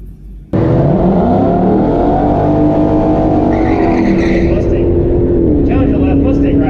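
A Dodge Challenger and a Ford Mustang launch side by side at a drag strip, with loud, sustained engine roar and tire squeal rising through the gears. Heard up close, with voices faintly underneath.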